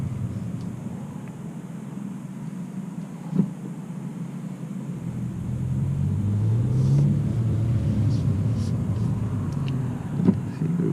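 A 2017 Kia Soul with a dual-clutch transmission cruises on a test drive, its steady engine and road rumble low and continuous, swelling slightly midway, with a couple of brief thumps.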